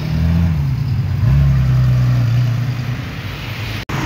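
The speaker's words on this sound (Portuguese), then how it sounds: "Olha aí o opalão vermelho." A red Chevrolet Opala, one of the last of the line, drives by with a loud, steady mid-range engine drone that swells briefly as it passes, the rumble holding on until it cuts off abruptly near the end.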